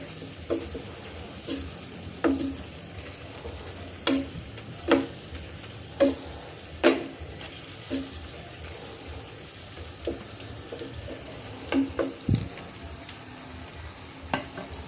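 Adobong kangkong, water spinach, sizzles in a pan while being stirred, with a steady background hiss broken by repeated clanking scrapes of the utensil at uneven intervals.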